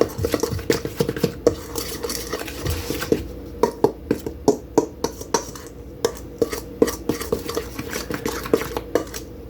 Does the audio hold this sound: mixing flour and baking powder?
yes